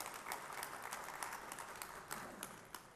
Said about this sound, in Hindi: जोरदार तालियों से उनका अभिनंदन किया जाए